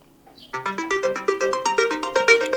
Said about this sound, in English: So here I'm going to use this ringtone.